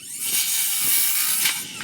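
A circular saw makes a few quick cuts through material, a loud, steady high-pitched whine lasting nearly two seconds with small surges in intensity, with no talking.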